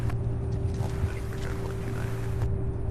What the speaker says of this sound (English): There is a bit of a gusty wind, you guys.